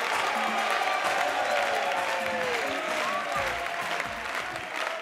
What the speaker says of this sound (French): Beaucoup d'applaudissements pour Juste Parfait.